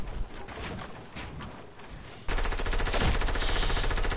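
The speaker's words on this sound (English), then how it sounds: "Why he's using the SMG so much." SMG fire from a video game breaks out halfway through as a loud, close, rapid burst that drowns out the quieter game ambience before it.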